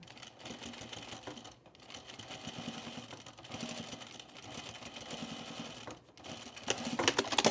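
A sewing machine stitches through a pre-quilted jacket with a quiet, rapid mechanical whirr. It runs in bursts with brief stops, then rises slightly louder at the end.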